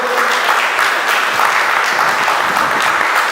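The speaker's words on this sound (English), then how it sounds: "Give them a round of applause." Dense, loud audience applause at a mosque event, a steady wash of clapping from a crowd indoors.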